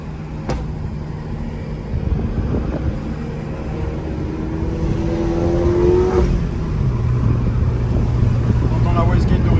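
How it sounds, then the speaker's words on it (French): Stage 3+ Mini Cooper of about 400 horsepower accelerating on its stock wastegate, heard from inside as a steady engine drone that builds in loudness, with a rising whistling tone and short hissy bursts. "On entend la wastegate d'origine."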